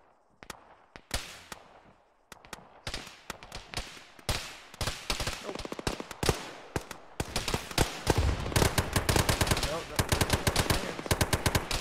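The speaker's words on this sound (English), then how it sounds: "There's a machine gun east." Machine gun fire in a military video game, with dense rapid bursts and scattered shots building from sparse to near-continuous, fairly close and loud, with overlapping gunfire in the background.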